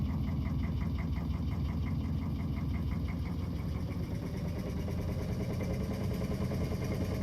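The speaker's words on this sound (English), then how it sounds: "it has a different engine sound to the other ships" The engine of a fishing ship in the game Fishing Barents Sea runs as a steady, loud, throbbing mid-pitched drone with a rapid knocking pulse, constant and close with no talk.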